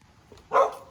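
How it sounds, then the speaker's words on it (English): A guard dog lets out a single short, sharp bark at close range, loud against an otherwise quiet background, with a faint earlier sound just before it. "Our guard dog is apparently found something."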